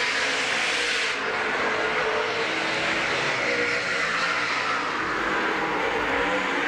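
Super Saloon race cars at Baypark Speedway, a continuous loud engine roar as the field circulates the track, steady and unbroken with no talk.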